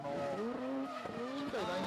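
Mazda RX-7 rotary drift car at a D1GP drift event at Ebisu, its engine note rising and falling through quick shifts with tire squeal, heard under commentator talk.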